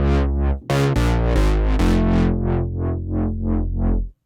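A loud, distorted synthesizer bass chord patch, shaped by a filter envelope, plays a run of rhythmic stabs, each note opening bright then closing down, with a thick low end throughout.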